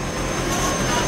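An airplane taking off in the video game Just Cause 2 at an airport: a steady, loud engine roar and rushing hiss that continues without a break.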